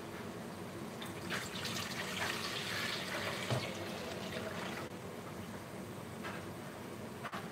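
Three litres of beef stock poured into a soup pot for French onion soup, a steady soft splashing gush running continuously, faint and close, with no talk.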